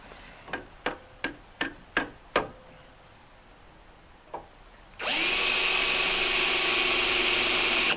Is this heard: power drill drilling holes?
yes